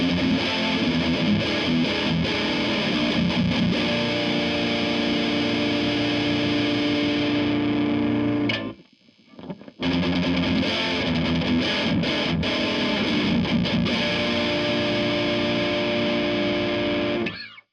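Electric guitar driven hard through a Friedman BE-OD overdrive pedal at high gain, loud sustained distorted chords with thick low end, one brief gap of silence midway before the playing resumes.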